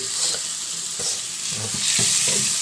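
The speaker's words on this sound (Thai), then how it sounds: "ก็ผัดต่อสักนิดนึงนะครับ" Thai curry paste being stir-fried in a pan for a beef curry, a loud continuous close sizzle with a spatula scraping and stirring in rhythmic strokes throughout, and no voices.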